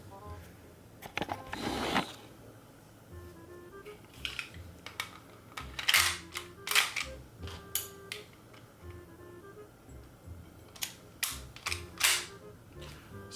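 An airsoft gas pistol fires a few sharp, snappy shots with mechanical clacks of the slide in between, close and fairly loud against a quiet room, with no talking.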